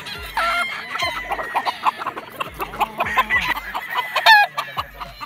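Gamefowl rooster at a game farm, several loud close crows interspersed with clucking from multiple birds, with overlapping calls in an outdoor yard.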